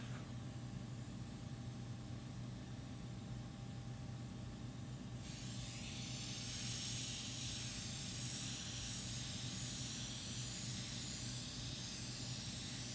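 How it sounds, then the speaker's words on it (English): A facial sprayer hisses a fine stream of liquid during the rinsing step of a facial, starting partway through and continuing steadily over a faint background hum. "Get more liquid flow from the sprayer and use a sponge to lock in that way the activator is not flowing all over the face."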